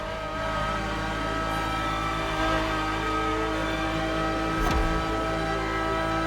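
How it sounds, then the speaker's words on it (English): A steady, deep Ferrari supercar engine drone heard from inside the car in the video game The Crew Motorfest, holding a constant rumble with a brief surge of revving near the end. "And the car's voice sounds even better from inside."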